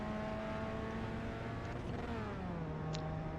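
A Pontiac Solstice engine in iRacing holds a steady drone, then dips in pitch as a gear is shifted and picks back up, heard close and alone.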